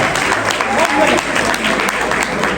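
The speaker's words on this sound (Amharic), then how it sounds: "አጨብጭቡለት። ሞቅ ያለ ጭብጨባ።" Warm audience applause at a rap battle in Ethiopia, many hands clapping in a dense, loud patter with some crowd noise beneath.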